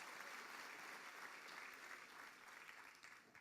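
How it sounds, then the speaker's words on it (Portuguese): Church congregation applauding together during a Portuguese-language service, a steady wash of clapping that holds through the moment and tapers slightly at the end. "Vamos aplaudir ao Senhor"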